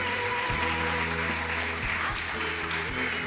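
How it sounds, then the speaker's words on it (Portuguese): A church congregation claps together in a steady burst of applause, with a sustained organ or keyboard chord droning underneath. "Dê um aplauso ao Senhor, aleluia."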